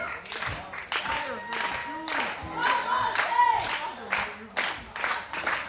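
A women's wrestling crowd cheers and claps in waves, a dense roar of applause and shouts with a commentator talking over it.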